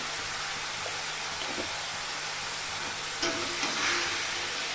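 Cauliflower pieces with potato fry in hot oil with salt and turmeric, giving a steady, even hiss that swells briefly louder near the end, with no voices.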